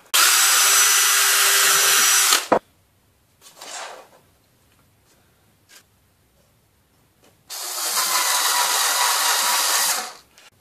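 A power drill countersinks holes in aluminium angle, giving two loud bursts of high whining drilling separated by quiet gaps with a few brief clicks and handling knocks.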